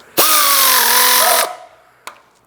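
A cordless power tool whirs loudly for about a second and a half while tightening the gearbox bell housing bolts on a car, then winds down and gives a short click.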